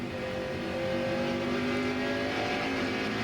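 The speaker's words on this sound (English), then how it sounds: "See how he sneaks up on the gas. That's the right way to do it to get out these corners." A race car engine at the 2001 New England 300 drones loudly from the in-car camera as the driver eases onto the throttle out of a corner, a sustained tone climbing gradually with no voices.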